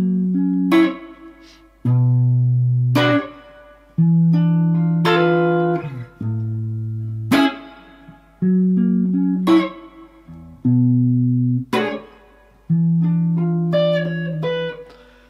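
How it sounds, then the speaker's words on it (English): Acoustic guitar picks out the intro of a song, thumb on the low strings with plucked chords, in a steady series of close, clear phrases played alone without voices. "So the intro sounds like this."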